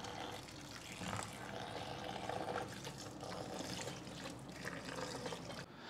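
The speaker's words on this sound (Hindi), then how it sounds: "स्ट्रेनर में डाल के अच्छे तरीके से इसको वॉश करेंगे ताकि स्टार्च वगैरह जो आलूओं को है वो इसमें से निकल जाए" Tap water gushes steadily through a strainer as grated potatoes and onions are rinsed, a continuous close splashing wash with no talk.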